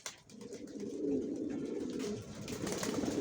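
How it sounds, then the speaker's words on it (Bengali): Young racing pigeons cooing at a pigeon loft, a steady low murmur of soft overlapping coos that carries on throughout the clip, with no voices heard. "এখানে যে কবুতরগুলো দেখতেছেন এগুলো দিয়ে কখনো ডিম বাচ্চা করানো হয় নাই"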